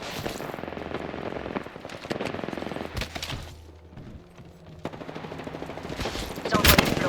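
Rapid gunfire in the battle royale game Apex Legends, played as Mirage: dense bursts of shots crackle near and loud across the clip, easing briefly mid-way before another heavy volley.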